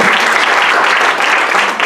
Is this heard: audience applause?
yes